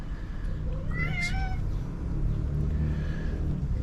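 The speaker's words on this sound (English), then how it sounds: "this here is Mama Cat" An Egyptian street cat gives a single drawn-out meow, close and clear, over a steady low outdoor rumble; a fainter second meow follows near the end.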